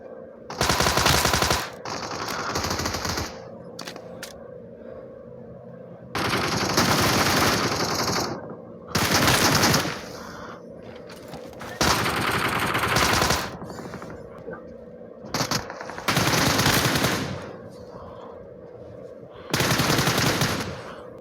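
Rapid bursts of automatic gunfire from a video game rattle loudly in several long volleys, separated by short pauses filled with quieter background noise.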